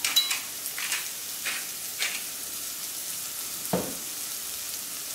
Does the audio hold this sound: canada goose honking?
no